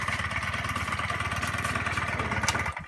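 A scooter engine runs steadily after its carburetor was cleaned, giving a close, loud, rapid putter that holds even throughout and cuts off near the end.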